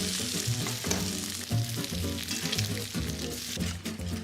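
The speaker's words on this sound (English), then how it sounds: "Let's flip our bacon. Nice and crispy." Bacon frying crisp in a pan, a dense, crackling sizzle with small pops and occasional handling sounds, close and continuous with no talking.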